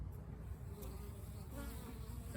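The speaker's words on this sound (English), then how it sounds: "Almost every bee coming back has pollen." Honey bees hum steadily as they fly back into their hive carrying pollen on a mild late-winter day. The close, continuous buzzing drone holds even throughout, with no voices.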